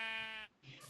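Sheep in a video game bleat once, a short nasal wavering call, clear and close, followed by a brief pause and a softer second sound.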